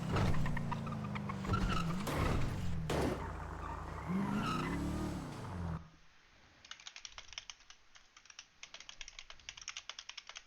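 Car driving and skidding in FiveM, a GTA V roleplay server, heard as a loud rumbling engine with rising and falling pitch sweeps and tire screeches, then a quieter stretch of rapid clicking and rattling near the end.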